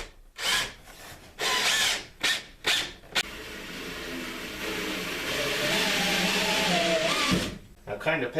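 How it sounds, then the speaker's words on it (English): Power drill driving screws into AZEK PVC board, PVC fastened into PVC: several short whirring bursts, then one long sustained run of the drill as a screw seats, all close and loud. "pay attention to my speed as I screw these screws into it, PVC into itself"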